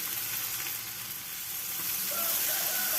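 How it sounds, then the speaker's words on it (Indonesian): Chili peppers frying in a pan for sambal pete hiss and sizzle steadily up close, a continuous bright crackle with no voices. "ini menggoreng cabai"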